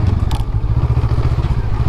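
Small Rebel motorcycle ridden hard on a dirt trail, its engine pulsing in a loud, steady low rumble with clattering and scraping over rough ground, close to the rider.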